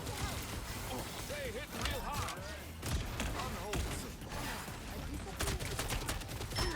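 Shotgun blasts in a video game, fired close up in quick repeated bursts amid busy gameplay noise, with someone talking over the shots.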